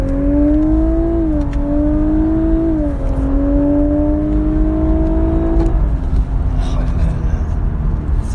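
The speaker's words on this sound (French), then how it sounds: "Attention, je vais accélérer." A Lexus LC 500h hybrid coupe accelerating hard, a loud steady engine drone rising in pitch with brief shifts, heard from inside the cabin over constant road rumble.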